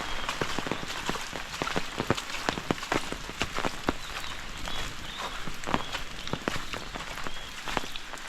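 Heavy rain pours in a Konkan village during a stormy downpour, a dense, steady hiss with many sharp drips and splatters striking nearby surfaces, no voices.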